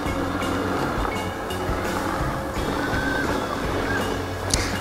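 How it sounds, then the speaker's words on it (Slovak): A robot vacuum cleaner runs during a crash test, making a steady mechanical whirring and rattling drone with small clicks and knocks throughout, close and fairly loud. "Vysávať vysáva, len tie pohyby sa mi zdajú troška pomalé."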